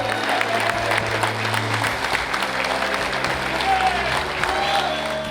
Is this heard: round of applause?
yes